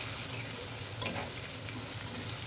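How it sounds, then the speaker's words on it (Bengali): Potato pieces seasoned with salt and turmeric fry in a pan with a continuous close sizzle and a brief scrape of stirring midway. "আলুটা আমার ভাজতে প্রায় 5 মিনিট মতন সময় লেগেছে।"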